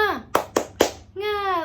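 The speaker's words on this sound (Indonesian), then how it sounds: "tepuk semangat sebelum pembelajaran ini dimulai" Schoolchildren in a fourth-grade class at MI Islamiyah Ciwaru in Serang, Banten, do a spirited class clap. Three quick, sharp claps come in rhythm, followed by children's voices chanting together.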